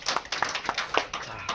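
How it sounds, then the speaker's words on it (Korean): A church congregation applauds to welcome a visiting pastor at a Sunday service, producing a brief burst of scattered, uneven hand claps in a reverberant room. "우리 환영하는 마음으로 우리 박수로 환영하겠습니다."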